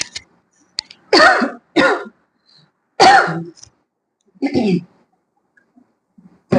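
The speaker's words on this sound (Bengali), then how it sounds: "একটু কাশি হয়েছে" A woman coughs several times in short, harsh bursts, close and loud, with quiet pauses between each fit and a few faint throat sounds around them.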